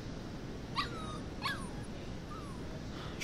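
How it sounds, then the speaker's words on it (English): Puppy in the video game Life is Strange 2 giving two high, sliding whimpering yips close by, then a softer whine, over a low steady game ambience. "Ready for today's training, puppy?"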